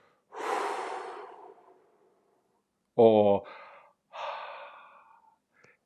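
Mouth breathing during a breathwork exercise: a long audible exhale through the mouth, then a sharp gasping inhale and a second sighing out-breath, close and clear with silence between.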